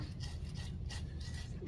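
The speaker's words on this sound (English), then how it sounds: "this is the coarse sanding stick" A coarse sanding stick rasps against a ceramic vessel being faceted, producing faint, dry back-and-forth scraping strokes in a quick, even rhythm.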